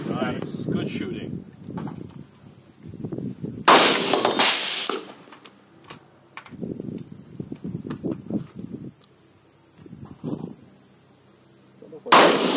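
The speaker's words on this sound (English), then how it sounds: "Nice, good shooting." Sharp, loud reports from a CZ Bren 2 MS 14-inch rifle in 5.56mm, a few spaced single shots ringing out between stretches of outdoor talk.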